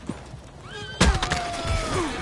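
A horse in the video game Red Dead Redemption 2 lets out a sharp, close whinny that starts suddenly and runs on, with hoof thuds and movement beneath it.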